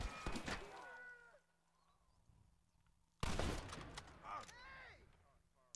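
Rifle shots boom in the Red Dead Redemption video game, two loud cracks spaced a few seconds apart, each trailing into echo, with whooshing effects between them.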